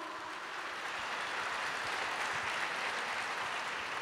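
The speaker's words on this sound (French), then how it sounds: "Denle un aplauso al rey." A church congregation applauds the king during a bilingual Spanish and French sermon, a steady dense wash of clapping that holds evenly for the whole stretch without any talk over it.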